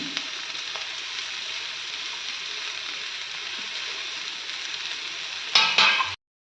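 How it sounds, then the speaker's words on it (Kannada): Carrots, beans and a tomato frying in a pan for a red sauce pasta, a steady close sizzle with a brief burst of stirring clatter near the end before cutting to silence. "ಬೀನ್ಸ್ ಹಾಕ್ತಾ ಇದ್ದೀನಿ ಮತ್ತು 1 ಟೊಮೆಟೊ ಹಾಕ್ತಿದ್ದೀನಿ. ಇದನ್ನು ಸ್ವಲ್ಪ ಫ್ರೈ ಮಾಡ್ಕೊಳ್ಳಿ."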